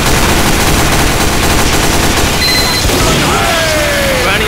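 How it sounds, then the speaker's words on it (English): Dense Team Fortress 2 gunfire as many snipers fire on Saxton Hale at range, a loud continuous barrage of overlapping shots with game effects, and a voice faintly under it. "There are currently a massive amount of snipers trying to take down Saxton Hale at range."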